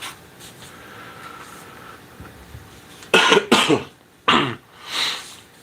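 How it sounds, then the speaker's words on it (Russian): Several harsh, close coughs come in quick bursts, with a throat clear following after a quiet stretch. "Сами видите, начал тут кашлять"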